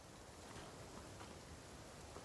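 Rain falls in the video game Infinity Nikki, a soft, even hiss of drops that stays steady and faint throughout, with no voices over it.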